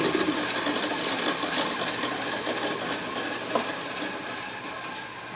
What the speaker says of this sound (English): I will go use the Scotch-Brite wheel to remove that secondary burr